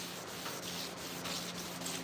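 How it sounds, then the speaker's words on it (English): Scuffing the top of a 2-inch cowl hood for a 1987 C30 truck gives a steady, close-up rasping rub with regular back-and-forth strokes, several per second, with no talk. "So I'm gonna scuff the top."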